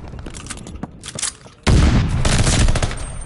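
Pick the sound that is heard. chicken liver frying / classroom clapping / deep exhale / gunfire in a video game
gunfire in a video game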